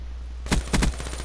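Gunfire in the Call of Duty Black Ops 3 video game: a sudden burst of sharp, loud shots starting about halfway in, with two heavier cracks in quick succession and faint reports trailing off.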